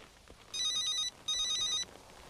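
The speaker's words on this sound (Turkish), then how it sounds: "Telefonun çalıyor Çetin." A telephone rings twice in two long, loud electronic bursts separated by a short pause, with quiet background and no talking.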